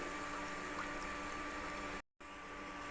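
Steady broadband sizzling and bubbling of oil heating in a pan for frying taro chips, continuous and close, with a brief dropout near the end.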